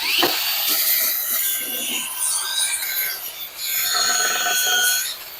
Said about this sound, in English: use my little handy dandy Ryobi sander to get this inside